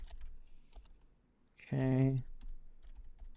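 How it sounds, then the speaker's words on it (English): Someone types on a computer keyboard while streaming, reaching around a microphone, giving scattered soft clicks throughout, broken by a single short spoken word in the middle. "I keep mistyping. I'm reaching around my mic here to type."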